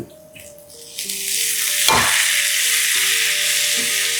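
Tomatoes sautéing in a pan for sandwiches, starting quietly and then rising into a loud, steady sizzle after something drops into the hot pan, close up with no voices.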